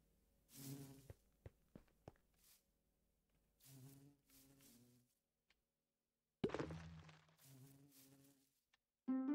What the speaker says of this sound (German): Oh, eine Mini-Biene!